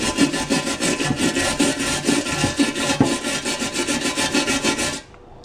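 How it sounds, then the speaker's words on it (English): A cast iron pan is scrubbed by hand during restoration, a close, rhythmic back-and-forth rasping of steady strokes that stops abruptly near the end. "And I'm going to scrub away and I'll show you what this looks like in a bit."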